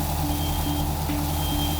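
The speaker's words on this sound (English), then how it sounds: "At this point, you can hear the fire alarm activated." A fire alarm sounds during a live Christmas tree burn demonstration, steady repeating beeps over a loud continuous roar of fire and background noise.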